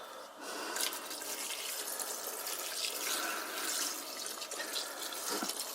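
Tap water runs steadily into a pot, a continuous broadband hiss with faint drips, close and alone with no talk.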